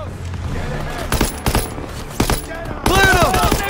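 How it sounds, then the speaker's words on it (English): Machine-gun fire in a Call of Duty video game: sharp bursts of automatic gunfire that come and go amid battle noise, with soldiers shouting over them. "MGs are ripping us apart!"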